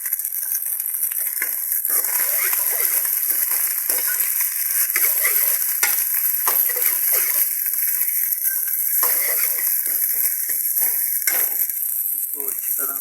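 Chicken pieces fry in a hot pan for restaurant-style chicken fried rice, a constant bright sizzle with scattered crackles and small clinks of utensils running evenly the whole time, close and fairly loud.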